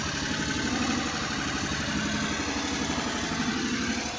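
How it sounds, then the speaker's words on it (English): A Toyota Avalon engine idles steadily with an exhaust or muffler leak up front, giving a continuous low, rough, ticking rumble that stays close and even throughout. "There seems to be an exhaust leak, muffler leak somewhere up front."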